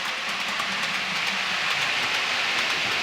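A long model container train runs steadily along its track, giving a continuous even rolling hiss and rumble with faint regular clicks from the wheels and couplings.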